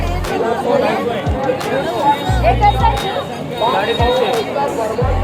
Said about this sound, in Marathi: तर गर्दी बघू शकता